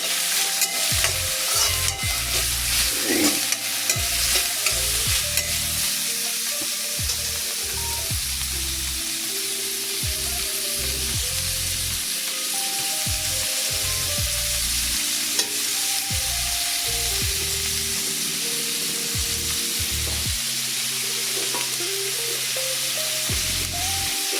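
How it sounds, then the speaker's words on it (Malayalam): Cauliflower curry with green chillies, curry leaves and salt is stirred in a hot pan, with a continuous sizzle and repeated scraping strokes of the spoon throughout, close and steady. "ആവശ്യത്തിന് ഉപ്പ്, എല്ലാം കൂടി ഒന്ന് ഇളക്കി കൊടുക്കണം"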